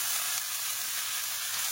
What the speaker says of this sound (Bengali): শাক আমি ঢেলে তেল দিয়ে রান্না করবো।